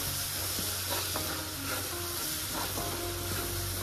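A ground misal masala paste fries in hot oil while being stirred, giving a continuous dense hiss and sizzle with faint scraping from the spoon, close up and even in level, with no voices.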